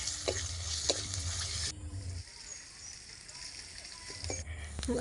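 Garlic and ginger paste frying with onion in hot oil for a mussel curry, a close steady sizzle with a few stirring scrapes, louder at the start and end, with a voice speaking over it.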